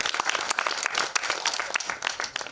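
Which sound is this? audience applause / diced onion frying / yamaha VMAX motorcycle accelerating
audience applause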